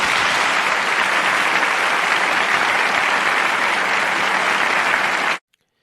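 Loud, dense applause from a large audience greeting the President of the United States, a steady wall of clapping that holds for about five seconds and then cuts off abruptly into silence.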